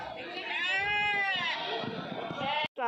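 Goats bleat loudly and close at a weekly village livestock market in Kadiri, one long wavering cry running nearly the full clip before a brief break and another call starts.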